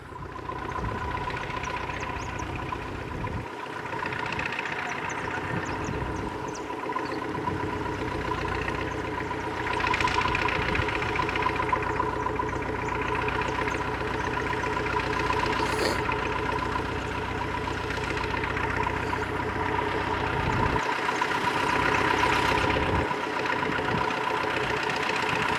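A tractor engine running steadily beside a huge river on a farm in Bolivia, a continuous mid-pitched idling drone with a faint knock that holds for the whole stretch, close and unbroken.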